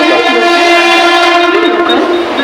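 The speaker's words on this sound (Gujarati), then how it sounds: "ટ્રેન આવી ગઈ છે અત્યારે આવે જ છે સામે" A train pulls in with a loud, sustained horn blast that holds steady, rumbling and close, with no talking.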